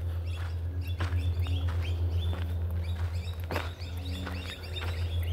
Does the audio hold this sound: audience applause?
no